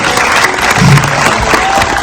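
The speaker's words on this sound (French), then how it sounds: "Merci de l'applaudir très fort." Loud, close applause from a cinema audience at a Pathé theatre, a dense, continuous burst of many hands clapping over a couple of seconds.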